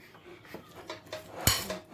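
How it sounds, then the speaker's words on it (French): Clinks and scrapes of a utensil against a bowl as a fairly dry mhajeb dough mixture is stirred, soft and close, with one sharper knock near the end. "On mélange tout simplement."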